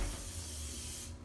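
Disinfectant spray hisses from a can in one steady, faint, close burst lasting about a second before cutting off.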